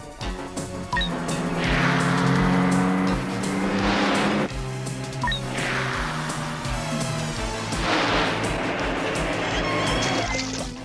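Cartoon car driving across water, a loud engine drone with splashing and sloshing water surges rising and falling over a music score.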